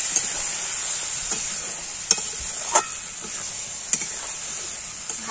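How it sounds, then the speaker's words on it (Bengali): Cashew paste sautéing in a pan makes a continuous close sizzle, broken by a few sharp spatula taps and scrapes, with no voices. "দিয়ে আমি এটাকে ভালো করে একটু কষাবো।"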